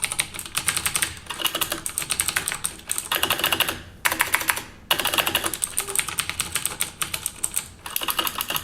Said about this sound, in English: The mechanical keyboard has that really clicky, tactile, and typewriter feel to it.